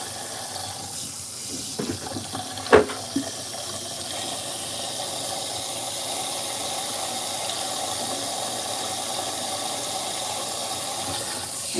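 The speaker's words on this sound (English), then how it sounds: "let me make sure this water is nice and warm before I spray him with it" Water sprayer running steadily to wet a cat before grooming, a soft continuous hiss of running water heard alone with one brief clatter early on.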